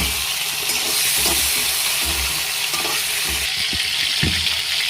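Taro stems and prawns frying in a pan give a steady, close sizzling hiss with occasional stirring clinks and scrapes, and no talking.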